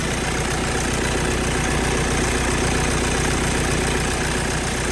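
Hyundai i40 facelift with a 141 hp 1.7 CRDi chain-driven diesel and automatic gearbox, idling under the open bonnet: a steady, even diesel rumble with a faint knocking texture, close and continuous with no talk.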